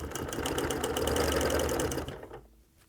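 A sewing machine stitches around a quilt in a fast, steady mechanical whir with a rapid needle rhythm. It runs close for about two seconds, then stops and leaves quiet.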